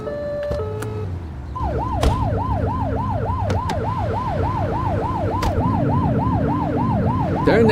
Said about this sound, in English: Turn that siren off. We don't need it on right now.